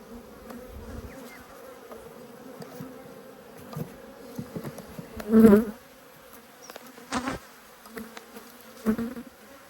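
Honey bees from an open hive hum steadily during an apiary inspection, a continuous buzzing drone with a few louder swells as bees fly close, and no talking.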